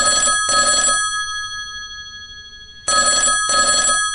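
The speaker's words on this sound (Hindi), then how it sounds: "तभी फोन की घंटी बजी।" Telephone bell ringing at a pizza shop during a night shift, two bursts of bright double rings separated by a long silent pause, loud and close.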